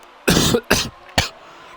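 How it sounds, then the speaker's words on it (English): Three short, dry coughs in quick succession, close and clear, with silence after. "Cough, cough."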